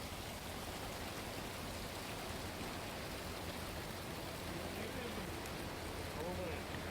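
Heavy, continuous monsoon rain pours down over flooded Ahmedabad, Gujarat, a faint, even wash of steady downpour that runs the whole way through with a voice talking softly beneath it.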